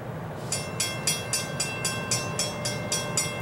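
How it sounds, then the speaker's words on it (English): A Norfolk Southern locomotive 823 train rolls past with regular rhythmic clacking bursts from the wheels over rail joints, steady and fairly close. "This will be our last train"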